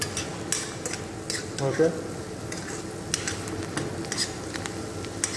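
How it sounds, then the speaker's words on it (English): Onions sauteed in a pan, a soft steady sizzle under the scrape and clink of a utensil stirring against the pan, close by, with a brief spoken word. "we have to saute the onions, don't brown them."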